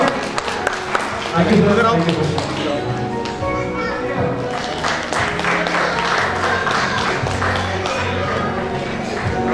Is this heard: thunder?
no